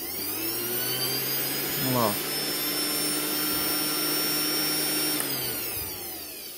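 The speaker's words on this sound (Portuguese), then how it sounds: "se eu ligar aqui esse motor aqui de 300 watts" A 300-watt electric motor powered by a homemade inverter whirs with a steady, loud whine and hum that holds throughout and tapers near the end, while someone speaks briefly over it.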